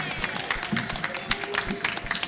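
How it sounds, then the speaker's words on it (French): An audience at a conference gives spontaneous applause, lively clapping with a crowd murmur beneath, irregular sharp claps close by. "applaudissements nourris et spontanés."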